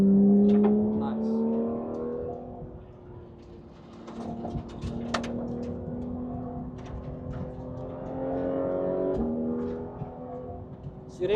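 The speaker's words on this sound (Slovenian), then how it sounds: "Malo bo še ropotal avto." A Porsche GT3 race car engine runs on a track during warm-up: a steady, close mechanical drone with gradual pitch rises and falls, like light revving, continuous throughout with faint voices now and then.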